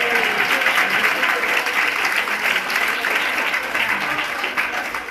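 Sustained applause from a conference audience at the closing session, steady, even clapping from many hands that continues throughout and tapers slightly toward the end.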